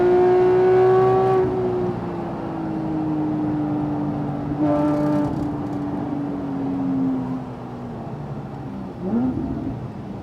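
A Porsche 997.2 GT3 RS with its 3.8-litre flat-six engine roars on a race track, pitch sliding through long pulls between brief shifts, loud and close from inside the car.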